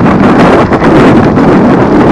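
Strong gust of wind buffeting the microphone while riding a hire e-scooter through Nottingham; loud, continuous roaring rush with rustling, close and unbroken, with no talk.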